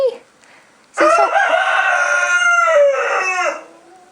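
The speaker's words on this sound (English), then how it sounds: "Rooster." A rooster on a farm with a meat rabbit colony lets out one loud, close crow lasting about two and a half seconds, with a faint cluck just before it.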